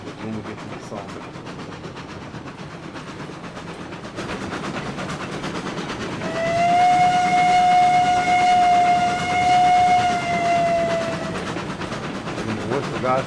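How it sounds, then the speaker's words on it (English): A steam locomotive whistle in the Railroads Online game sounds one long steady blast of several minutes' worth of harmonics, held for about five seconds over rumbling train and running noise, approaching a sawmill on the Lake Valley map. "And the whistle guys let them know we're coming in."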